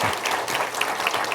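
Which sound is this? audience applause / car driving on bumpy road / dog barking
audience applause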